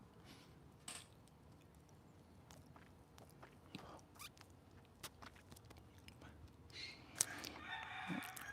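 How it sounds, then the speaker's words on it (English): A rooster crows faintly in the distance with a rough, hoarse call near the end, over quiet background rustling and scattered small knocks. "Ooh, that rooster got a frog in his throat."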